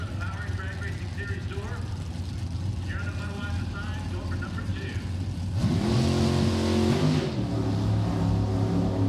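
Drag racing cars at an NHRA national event in Norwalk, Ohio roar off the starting line, engines rising sharply in pitch as they launch, loud under a steady crowd and track din with an announcer talking throughout.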